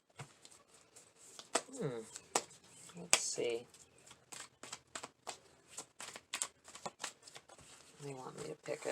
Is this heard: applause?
no